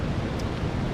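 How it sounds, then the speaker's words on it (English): Large rain-swollen creek along a jungle trekking track rushing past: a dense, continuous broadband roar of water, steady and unbroken, fairly faint and distant with no voices. "Massive creek just outside, and with all the rain it is just thundering past."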